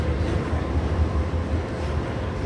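The historic Kuranda Scenic Railway train runs through Cairns town centre, a steady low rumble and rolling rail noise close by, continuous and without talk.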